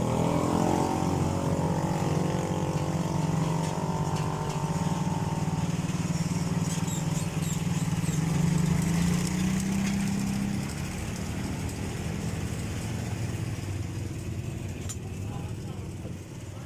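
A Yamaha Mio motorcycle with a loud, patched-up exhaust idles and revs in a continuous, rough, buzzing drone. It is close and steady throughout, with a faint voice beneath it.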